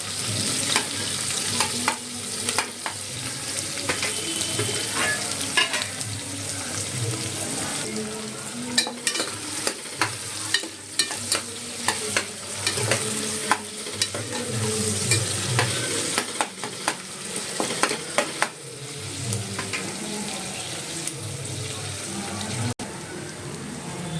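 Onions sizzle and fry steadily in hot oil for mutton masala, with repeated scraping stirs from a spoon against the pan throughout; the frying stays close and constant, with no talk.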